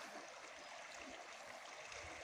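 A river in the Mixteca region of Oaxaca flows through a bend in the valley, a faint, even wash of running water heard from a distance with no one speaking.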